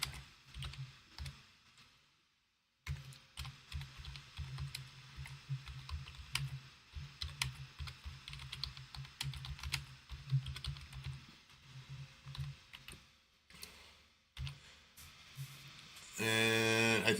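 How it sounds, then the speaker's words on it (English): Keys clatter on a computer keyboard in steady close typing bursts, pausing briefly twice, with a sharp electronic tone at the end. "it's hard to type"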